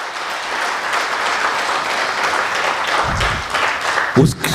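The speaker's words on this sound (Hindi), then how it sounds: "एक बार मजमूई तौर पर तालियां बजाई जाएं" Applause from the crowd at an All India Mushaira poetry gathering, a broad steady clapping roar with a few louder bursts near the end and voices calling out.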